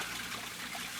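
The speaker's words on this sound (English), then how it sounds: "Most ingenious, my fountain. Costs so little to run because it uses the same water" A garden water fountain trickles steadily in a classic radio drama, a soft continuous splashing wash, faint and unbroken, with no voices.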